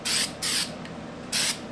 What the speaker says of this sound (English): This is only getting one spray, Trap.